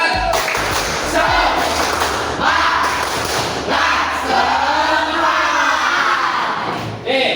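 A school class claps the rhythmic spirit clap, tepuk semangat, in a classroom. Loud, punchy claps and thuds run throughout with group voices, and a teacher's voice is heard.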